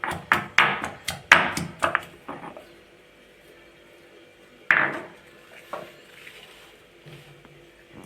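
A run of sharp, rhythmic knocks from pounding in a small mortar, quick at first, then slowing to a few scattered taps.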